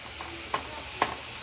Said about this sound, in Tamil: பச்சை மிளகாய் போட்டுட்டு கேரட்டு பீன்ஸு போட்டிருக்கேன். இது நல்லா வதங்கி வரட்டும்